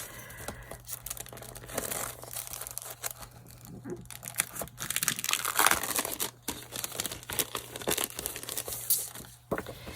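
Plastic packaging around a set of retro rub-on stickers is opened, giving close, irregular crinkling and tearing crackles that come in bursts, loud and alone.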